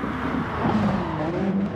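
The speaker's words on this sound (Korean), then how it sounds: "AMG 저게 배기 소리가 특이하거든요." An AMG car's exhaust rumbles in the racing game Gran Turismo Sport, a steady low engine drone with rising and shifting tones as it revs, heard alone and fairly close.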